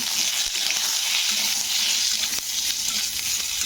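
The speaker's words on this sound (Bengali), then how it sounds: "বেগুনগুলোর মধ্যে সামান্য একটু আমি লবণ দিয়ে বেগুনগুলো ভেজে নেব" Eggplant pieces sizzling steadily in hot oil with a little salt on low heat, a constant bright frying hiss with faint crackles and occasional stirring, close and without speech.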